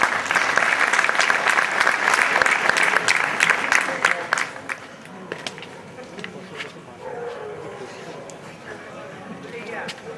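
Thousands of people clap together at a Khodiyar Jayanti devotional gathering of the Khodiyar Mitra Mandal in Nallasopara, a dense loud round of applause for about four seconds before it thins out and a voice carries on over the crowd.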